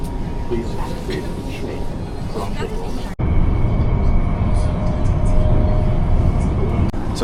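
Loud, steady rumble of a Chengdu subway train riding along, with a sharp shift partway through as the car noise surges and continues with a constant roar; voices murmur faintly underneath early on.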